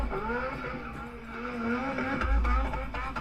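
A car spinning a donut, with a steady engine drone and long smeared tire squeal rising toward the end, a heavy low rumble building in the final second, fairly distant and moderate in level.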